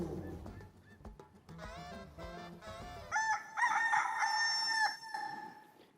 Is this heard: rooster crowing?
yes